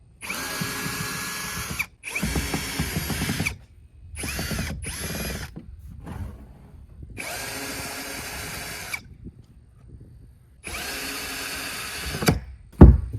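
A power drill whirs in repeated bursts, loosening bracket screws on a bass boat, some long and some short, separated by pauses, ending with a sharp clunk close by.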